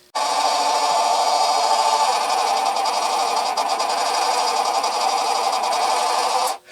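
A small Manson miniature lathe slowly turns a 1.5-inch aluminum piece, giving a steady, close mechanical whir with a faint rhythmic chatter throughout, ending abruptly as the machine is stopped; no voices.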